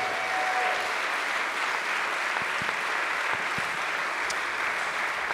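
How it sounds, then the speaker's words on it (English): Audience applause at the squash individual finals of the 2018 FISU World University Championships, a steady, dense wash of clapping that holds at an even level for the whole stretch with no voices over it. "a big round of applause, please, for both of the players"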